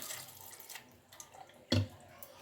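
Water trickles and splashes faintly into a container of idli batter, quiet intermittent pouring with one louder splash midway, no talk.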